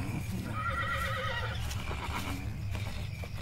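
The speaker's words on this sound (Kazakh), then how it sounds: "Аттар тым мазасызданып кетті." Horses neigh restlessly in a Kazakh animated cartoon, a wavering whinny rising over the clip-clop of hooves and shuffling movement, followed by further snorts and stamping, moderately loud with no voices heard.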